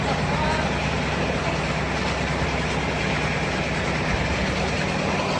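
A small 50-horsepower Solis tractor runs continuously while whisking slurry on a farm, its engine a steady, loud drone with no breaks throughout.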